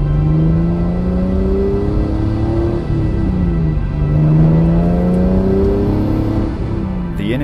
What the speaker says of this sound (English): It has an upgraded exhaust system, so you will hear it as it roars past you.